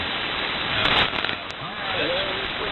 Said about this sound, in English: it sounds like you got a downpour there